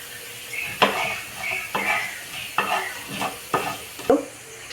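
Urad dal sizzles gently in hot oil while a spoon scrapes through it in a series of distinct, evenly spaced stirring strokes, close and clear with no talking.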